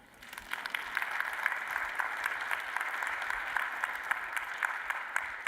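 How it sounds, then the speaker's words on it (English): Steady applause from a conference audience at an NCAA session, a moderate, even wash of many hands clapping that stays constant for several seconds without speech. "Pause for applause."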